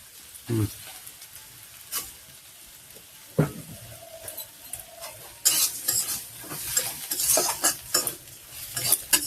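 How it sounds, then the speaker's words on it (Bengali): Flattened rice (chira) fries in a pan with a soft sizzle, under repeated scraping and stirring strokes that grow busier and louder toward the end. "এখানে আমি চিড়াটা ভেজে নিচ্ছি চিড়াটা ভেজে নেবো"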